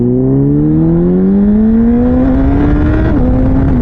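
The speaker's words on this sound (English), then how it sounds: "the quick shifter is shifting quickly" A Translogic QSXI quick shifter at work on a motorcycle as the engine revs steadily upward through a gear, a brief dip marking the quick shift before it pulls on, loud and close with no talk.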